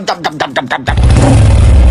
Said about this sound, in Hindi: ये देख चिरकुट के गियर हिलाते ही घोड़ा स्टार्ट हो जाता है।